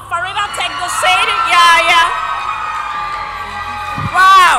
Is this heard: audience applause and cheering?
yes